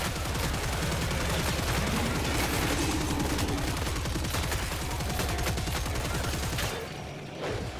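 Heavy gunfire in the video game Killing Floor 3, a dense continuous barrage of rapid shots layered over one another, loud and sustained before dropping off slightly at the very end.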